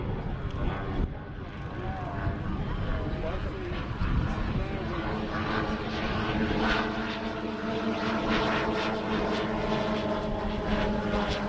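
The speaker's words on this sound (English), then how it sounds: "You hear him working throttles, judging his speed" A model propeller aircraft's engine drones steadily at an outdoor air show, the pitch shifting as the throttle is worked on a landing approach, with a crowd and voices murmuring underneath.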